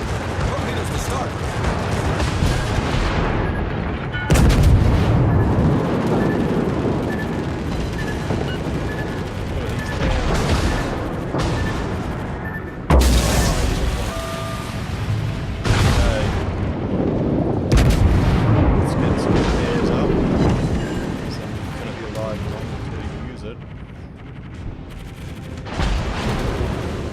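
Secondary battery guns of a warship in World of Warships fire in rapid repeated volleys, loud booms and cracks layered over continuous battle rumble, with a voice talking throughout.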